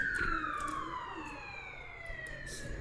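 Police car siren in a video game, a steady wailing tone that sweeps slowly downward with layered harmonics, sounding fairly close and continuous over low background noise.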